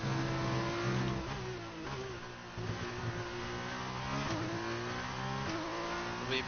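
An F1 car engine in the F1 2019 video game revs high and steady, rising through several gear changes with short dips between shifts as it accelerates toward a hairpin at the Japanese GP.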